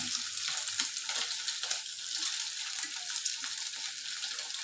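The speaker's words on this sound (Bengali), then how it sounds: "এই যে ডিম ভাজি হচ্ছে।" An egg fries in a pan with a continuous, fairly quiet sizzle and crackle, heard close up with no voices.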